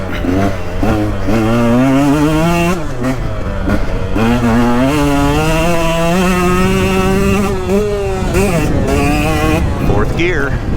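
A 2022 KTM 125XC two-stroke dirt bike ridden hard uphill, its loud, close engine climbing and dropping in pitch as it revs and shifts through gears, steady throughout.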